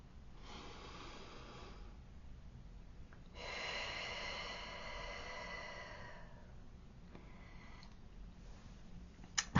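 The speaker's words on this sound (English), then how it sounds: "so take a deep breath with me." Slow deep breaths drawn in and let out, a long inhale then a long exhale with a softer breath after, close and quiet with no talking.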